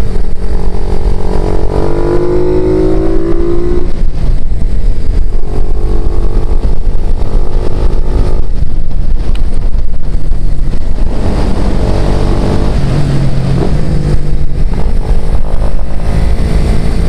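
A Honda RS125FI motorcycle is ridden along a road, its engine revving up and down through gears under heavy, constant wind rush on the microphone.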